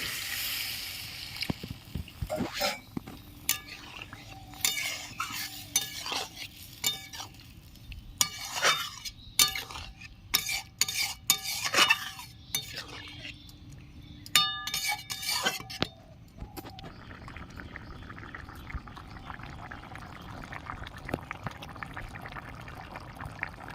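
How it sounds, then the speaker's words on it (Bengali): Water is poured into a cooking pan of sautéed summer vegetables, with a hissing sizzle and a rush of liquid, then clattering stirring with a utensil against the pan, and quieter simmering afterwards. "কষানো হয়ে গেছে এবার আমি জল দিয়ে দিচ্ছি"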